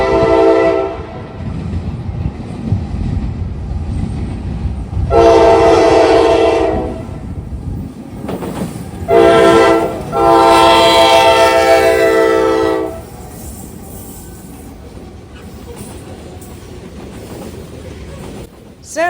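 A southbound grain freight train passes at Valley Crossing in Obetz, Ohio, near the Norfolk Southern Columbus District diamond, its loud horn sounding in several long blasts over the steady rumble of rolling cars.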